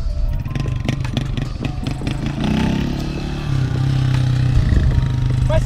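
Motorcycle engine revving hard at a wheelie practice spot as the rider lifts the front, loud and sustained with rising and falling pitch, mechanical clatter throughout and a steadier high rev toward the end.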